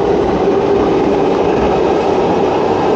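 A train rolls past a station platform, a steady, loud rumble of wheels and carriages that fills the whole stretch without pause, with no voices over it.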